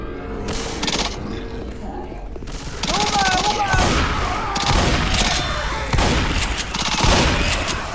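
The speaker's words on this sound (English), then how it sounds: "Deploying fire bullets." Incendiary fire bullets rip out in repeated bursts of rapid gunfire in the zombie shooter Left 4 Dead 2, loud and close, with short pauses between volleys and chaotic game sounds mixed in.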